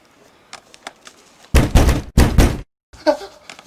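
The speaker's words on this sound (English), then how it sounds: "Whence is that knocking?" Heavy knocking on a door in a filmed Shakespeare scene: two loud bursts of pounding knocks in the middle, with fainter taps before and after and near silence between.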